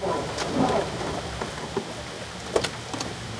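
Steady rain patters, broken by cracks and low rumbles of thunder, with a few sharp bursts near the end.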